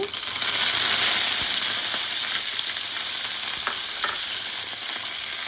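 Crushed garlic and curry leaves frying in hot oil for a broccoli curry, with a dense, steady sizzle and a few faint clicks, close and without talk.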